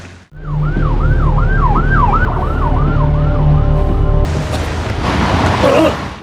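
Wailing police convoy sirens rise and fall loudly and close in a film scene, sweeping in repeated cycles before giving way to a burst of noisier traffic rumble.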